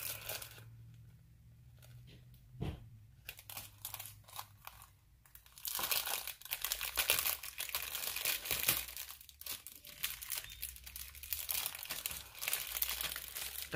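Sticker haul package being opened by hand, with paper and plastic crinkling and crunching, sparse at first and then continuous and louder, close up with no talking.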